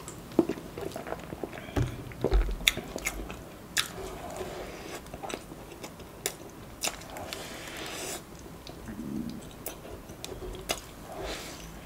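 Crunchy biting and wet chewing of a Chinese New Year dessert in Bangkok, close and intimate, with irregular bites and soft mouth sounds repeating throughout, no talking.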